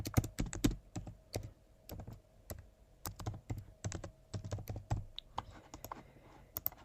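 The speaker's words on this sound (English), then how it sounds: "So I'm going to type book a consultation." Rapid, uneven keystrokes on a computer keyboard while building a website homepage, close and fairly quiet, in bursts with brief pauses and no talking.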